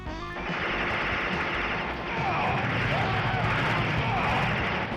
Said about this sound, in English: just here to interrupt my stream of gunfire that I'm trying to do